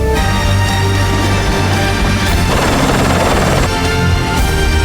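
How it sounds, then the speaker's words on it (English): A loud, steady drone of a life flight medical helicopter with churning rotor noise fills the clip, close and continuous. "A life flight helicopter rushed Justin to the Intermountain Medical Center"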